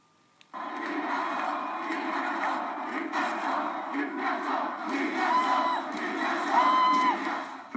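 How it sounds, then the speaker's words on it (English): A huge crowd at the 1997 Newcastle Knights celebration bursts into a sustained roar after a moment of quiet, with cheering, whoops and shrill whistles swelling in waves and staying loud. "Listen to the crowd!"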